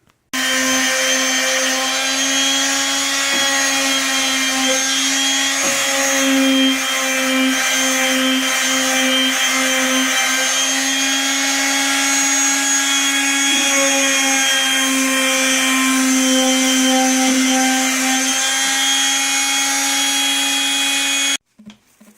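A loud, steady electric sander drones on wood with a constant motor hum for about twenty seconds, then cuts off abruptly.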